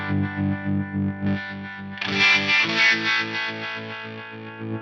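Electric guitar chords through a drive effects pedal with the high cut turned up, giving a gritty but dull, muffled tone; several rhythmic strums, then a brighter, fuller burst of distorted strumming that rings on.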